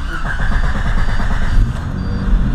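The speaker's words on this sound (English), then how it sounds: "So I have it idling right now so I can do a hot start for you guys" Jeep Cherokee engine running at a fast, high idle after a hot start, a steady close-up low rumble with a faint whine, no one talking over it.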